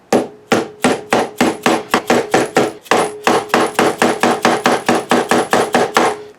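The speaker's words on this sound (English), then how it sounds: "This is a 1 pound dead blow hammer." A one-pound dead blow hammer strikes the neck joint of a 1959 Les Paul guitar in a steady series of about twenty-five loud, close, evenly spaced blows with no talk.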